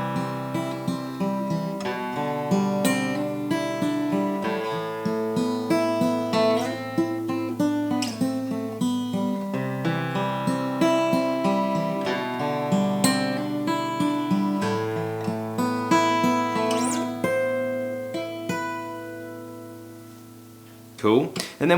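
Guitar playing a part from a song, a steady run of sustained, ringing picked notes layered into a continuous melodic passage, close and unaccompanied by talk.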